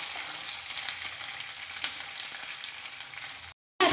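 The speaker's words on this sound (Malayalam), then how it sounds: "ഇനി നമുക്ക് കരിവേപ്പിൻ്റെ ഇല ഇട്ട് കൊടുക്കാം." Curry leaves with chopped ginger and garlic hit hot oil for a lemon pickle, producing a loud, dense, close sizzle with crackling spatter that stops abruptly near the end.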